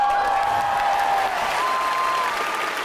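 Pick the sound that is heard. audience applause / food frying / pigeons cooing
audience applause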